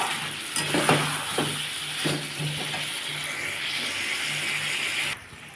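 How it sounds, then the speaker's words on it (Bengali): Ginger and spices sauté in oil for a Bengali potato curry, a steady close sizzle with several brief scraping stirs of a spatula against the pan before the frying hiss suddenly cuts off. "এটাকে ভালো করে কষিয়ে নিচ্ছি যখন তেল তেল বেরিয়ে এসছে আমি আর একটু কষাবো"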